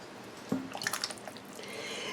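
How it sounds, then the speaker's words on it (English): Water from a can is poured into a pot of chili, a short glugging pour with wet plops and drips, close and fairly loud, no voices. "And I'm going to add a can of water to this too."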